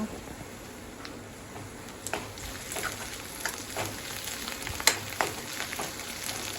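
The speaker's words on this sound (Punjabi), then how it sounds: "ਚਲੋ ਲਾਓ ਫਿਰ ਤੜਕਾ" Tadka for rajma, with tomato, ginger and green chillies, sizzles and crackles steadily in a pan at moderate volume, broken by occasional sharp pops and light clicks of stirring.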